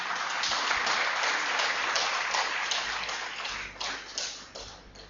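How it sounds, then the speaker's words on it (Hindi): An audience claps to welcome a speaker at a health lecture in Chennai, a dense, sustained burst of applause that thins into scattered claps toward the end. "मेरी गुजारिश है कि आप जोरदार तालियों से उनका स्वागत करें।"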